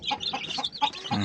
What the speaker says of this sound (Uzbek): Jo'jalar endi sekin yo'lga yaraydigan bo'lyapti